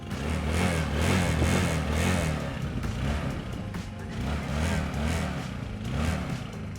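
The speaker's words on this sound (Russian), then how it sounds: "Пробуем запустить мотор и оценим звук." Linhai Yamaha M200 ATV engine running at idle with a rhythmic low thumping pulse and mechanical clatter, steady and fairly close, rising and falling slightly in intensity.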